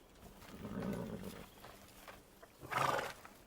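A horse neighs at a soldiers' camp, a short whinny followed by a louder, higher neigh near the end, with no talk.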